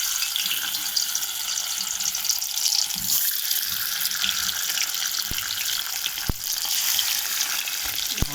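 A whole fish spitting and frying in hot oil makes a loud, continuous crackling sizzle, close up, with a few sharp pops and clicks scattered through it and no voices.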